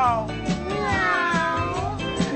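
A loud, drawn-out cat meow sung within a children's song, with musical accompaniment underneath for about two seconds.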